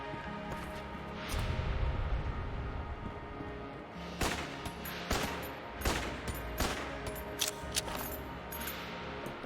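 A Winchester rifle firing in the Enter the Gungeon video game: a string of sharp, separate gunshots in an irregular rhythm over steady game music and background noise.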